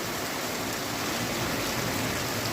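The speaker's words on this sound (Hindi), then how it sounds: "चलिए तिखी बारिश है" Heavy rain pours over a village in Pakistan, a steady, dense hiss of water with no break or voices.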